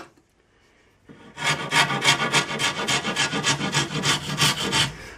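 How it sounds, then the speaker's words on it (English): A blade shaves sapwood from a yew longbow stave in steady, rhythmic rasping strokes, close and distinct, starting after a quiet moment and repeating about three times per second. "If we take a whisker more sapwood off,"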